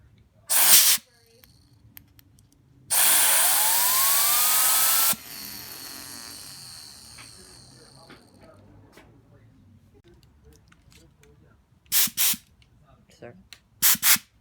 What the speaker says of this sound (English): So I'm going to use the compressor.